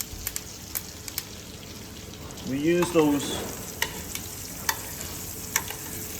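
Fondant potatoes frying with whole garlic and thyme as hot fat is spooned back over them, a steady sizzle broken by sharp clinks of the spoon against the pan and a brief murmur of speech midway.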